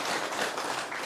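Brief burst of steady, dense applause from an audience at a community gathering, honoring senior members, filling the whole moment without any voices over it.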